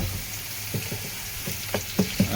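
Onions fry until golden for a rock fish curry, giving a low, steady sizzle in the pan. A few sharp pops and stirring scrapes punctuate the sizzle, close and fairly quiet.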